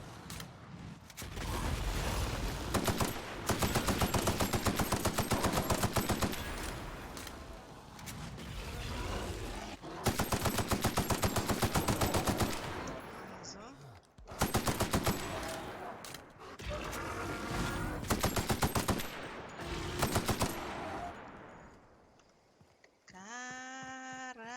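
Rapid automatic gunfire from weapons in The Outer Worlds, loud sustained bursts broken by short pauses, with mechanical clatter and a final tonal game sound.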